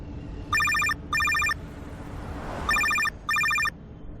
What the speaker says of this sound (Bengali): এই তো রঘুই ফোন করেছে, আমি কথা বলছি।